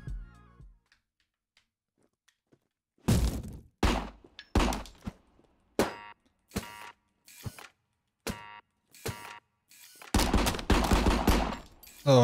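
Uzi 9mm gunfire in the RICO video game comes in short, punchy bursts and single shots separated by silences, with a longer sustained burst near the end, loud and close with no talking.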